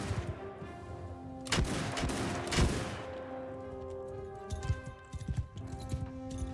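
Musket gunners firing in the Shokuho samurai video game, with a few sharp volleys crackling close together early on and then scattered lighter shots popping over steady battlefield noise.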